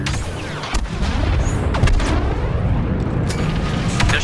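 Heavy artillery and blaster fire in the Star Wars Battlefront II video game during a Geonosis battle: sustained rumbling booms and sharp shots, loud and continuous, with no talking.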